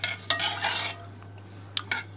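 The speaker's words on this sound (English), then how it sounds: "I'm gonna stir it in." Stirring cinnamon, mixed spice, almond and vanilla into Jamaican rice porridge in a pot, a dense run of scraping and clinking that fades to a lull before two final sharp clinks, close and distinct.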